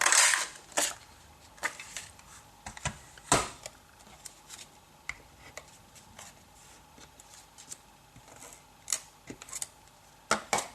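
An oval scalloped paper punch cuts a baby photo out of paper, making a series of faint, sharp clicks and crunches at irregular intervals against a quiet background.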